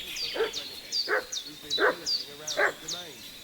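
A dog in Kingdom Come: Deliverance 2 barks in a repeated series of about five sharp, fairly close barks at a steady rhythm, with high whines or yelps between them.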